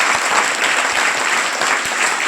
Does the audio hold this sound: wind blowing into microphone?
no